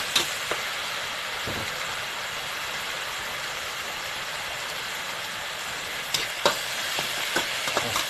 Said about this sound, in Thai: ผักคะน้าลงไปผัดล้วนๆนะครับให้เขาหอม ผัดไฟแรงเลยนะครับ